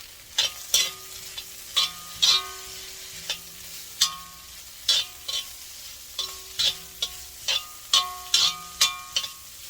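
A vegetable stir-fry is stirred in a pan, with a spatula scraping and clanking against the metal in repeated short strokes about every half second, each over a soft frying sizzle, close and without talk.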